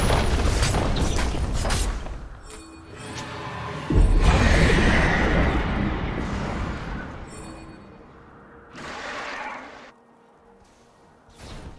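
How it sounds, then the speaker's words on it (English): A turret is destroyed in League of Legends, heard as a loud crashing boom with grinding, crumbling debris that swells, fades, then hits again before dying away. "turret has been destroyed"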